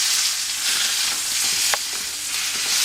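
Venison steak sears and browns in a hot pan, giving a steady loud sizzle with occasional crackles and a sharp spatter, no talking.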